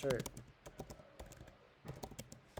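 Quick, soft clicks of typing on a computer keyboard, a brief irregular burst of keystrokes that is near but fairly quiet, with a faint voice at the start.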